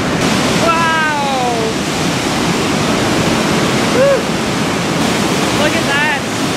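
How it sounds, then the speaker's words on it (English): Loud, steady roar of rushing water from a waterfall inside a canyon, echoing as if enclosed, with excited voices exclaiming over it. "It's quite loud where the waterfall is, and the waterfall is like inside a canyon"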